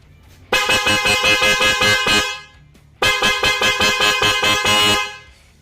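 Two long, loud blasts of a loud horn on a Honda PCX 160 scooter, each pulsing rapidly, close up, separated by a short pause.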